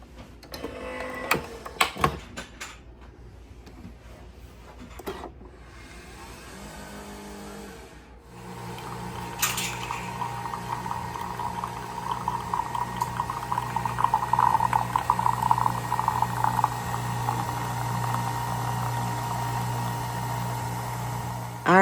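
Nespresso machine brewing espresso from a pod, with a few clicks and clatters first, then a steady loud pumping hum and gurgling buzz that continues to the end.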